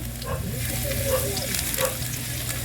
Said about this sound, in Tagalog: At magigisa naman po tayo ngayon ng bawang